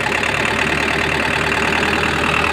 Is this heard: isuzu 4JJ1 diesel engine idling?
yes